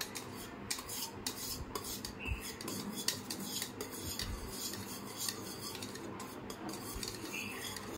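A spoon mixing ghee into rava cake batter in a bowl, giving continuous close clinking and scraping strokes with a rough rubbing texture and soft background noise, no voices.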